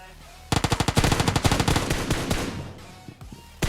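Rapid automatic gunfire from a PUBG Mobile battle, a dense burst of loud, closely spaced shots that runs almost continuously for about three seconds before breaking off, with another shot starting at the very end.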